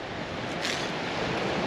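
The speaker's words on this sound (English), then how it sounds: "That's the Pacific Ocean." Pacific Ocean surf breaks on a coral beach on Makemo Atoll in the Tuamotu Islands, a steady broadband wash of waves with some wind noise, continuous and fairly loud, with no voices.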